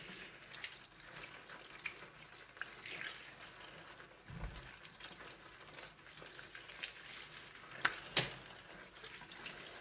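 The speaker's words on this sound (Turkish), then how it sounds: "Ondan sonra pırasaları tek tek yıkayalım." Leeks being washed one by one under a running kitchen tap on a snowy day, a steady soft stream of water splashing in a sink with a few brief drips and clinks, no talking.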